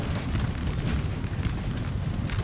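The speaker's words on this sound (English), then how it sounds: "Wait, are you firing round shot?" Cannons firing round shot in the Napoleon: Total War video game, heard as a dense, continuous low rumble of distant booming battle fire with no clear separate shots.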